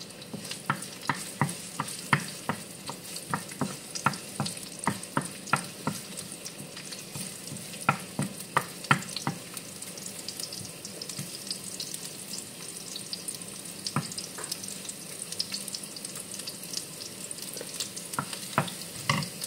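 Ginger and garlic fry in hot oil for chicken sotanghon soup, giving a steady close sizzle broken by the sharp clicks and scrapes of stirring all the way through.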